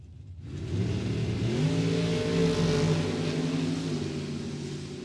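A dragster and a Malibu launch side by side at a drag strip, engines suddenly roaring to a loud, sustained wail with rising and falling harmonics as they pull away, no voices over it.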